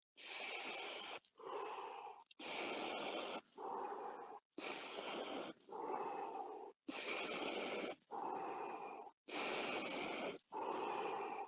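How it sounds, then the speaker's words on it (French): Deep, slow breaths during a guided breathing exercise, each long inhale followed by a softer exhale, repeating evenly about every two seconds, close and clear with no talk. "Vous sentez cette vague de la respiration."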